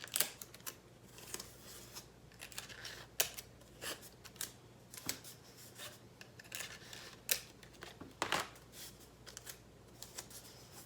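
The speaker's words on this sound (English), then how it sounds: "And with my tape, I'm just going to tape it closed." Construction paper rustles and crinkles as tape is pulled and pressed to close it around a toilet paper roll for a kids' kaleidoscope craft, with close, irregular scratchy tears and rubs, no talk.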